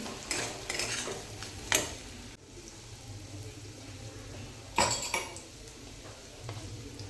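Sweet potato with crushed peanuts being sautéed in a pan makes soft close sizzling under scraping stirs, with a few sharper clinks of a spoon against the pan.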